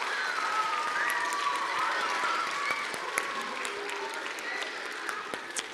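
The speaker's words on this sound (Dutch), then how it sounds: "een groot applaus voor Jos" A children's university lecture audience claps in sustained applause for the professor, moderate and even throughout, with faint voices mixed in.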